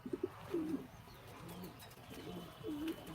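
A racer pigeon coos in soft, low, rounded calls, a short pair near the start and another phrase near the end, heard close but quietly against faint background noise without talk.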